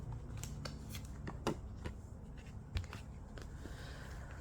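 Cards being shuffled, soft riffling and crisp flicks with a couple of sharper taps, quiet and close with no talking.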